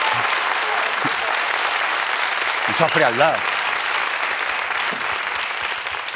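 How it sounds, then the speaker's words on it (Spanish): Sustained applause from a TV late-night studio audience fills the whole stretch as a steady dense wash, with a brief spoken phrase cutting through the middle. "Un aplauso"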